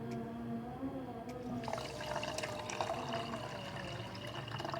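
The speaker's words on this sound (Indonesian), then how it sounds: "Dan masukkan air." Water poured into a coconut milk pudding mixture with purple sweet potato, a soft steady splashing trickle that starts partway through after a quiet moment, faint and close with room noise.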